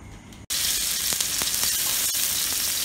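Garlic and shallots sizzle loudly in a hot pan for a spicy stir-fried pork neck dish, a steady bright frying hiss that bursts in suddenly after a brief quiet moment and holds close and even throughout.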